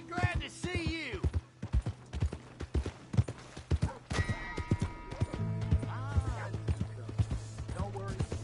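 A horse's hooves clip-clop in the Western game Red Dead Redemption 2, mixed with a whinny, game sounds and voices talking over the close, uneven hoofbeats.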